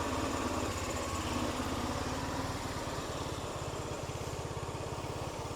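A small engine on a repaired machine idles steadily and close by, its rapid even putter running alone for the whole stretch.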